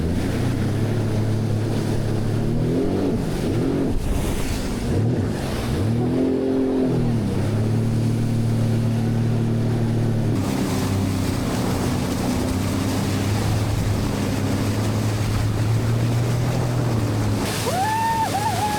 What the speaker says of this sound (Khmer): កំពុងជិះម៉ូតូទឹកដើរលេងមើលព្រៃព្រឹក្សាអញ្ចឹងណា